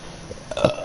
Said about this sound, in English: I'm so sorry that I'm burping.